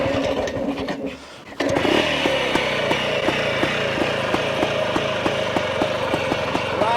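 A 1968 Cotton trials motorcycle is kickstarted. After a brief scuffle and pause, the single-cylinder engine catches and settles into a steady, loud, even-paced idle up close.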